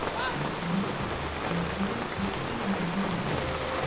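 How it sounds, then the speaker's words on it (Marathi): Heavy rain falls steadily and loudly, a dense, continuous wash that stays the same for the whole stretch, with a low rumble underneath. "पाऊस पडते जाम."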